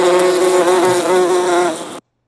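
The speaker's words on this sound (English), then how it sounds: "Number 2, that's the bee pollinator, that sound we would use." A bee pollinator sound effect gives off a loud, steady insect buzz with a strong droning tone, lasting about two seconds before cutting off abruptly.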